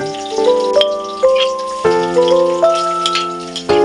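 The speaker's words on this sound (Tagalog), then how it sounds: "Yan, igigisa na yung ingredients. So, nauna na yung bawang." Garlic sautéing in hot oil in a wok-style pan, a steady sizzle with clinks and scrapes of a utensil against the metal recurring every second or so, close and fairly loud.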